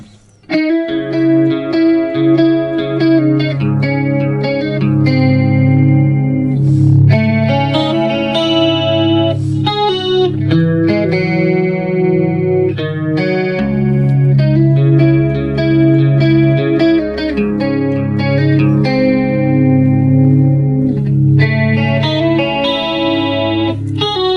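Clean electric guitar through a BOSS eBand JS-10 with only its chorus effect on plays a shimmering, warbling melody of sustained notes and chords, loud and continuous with no other sounds.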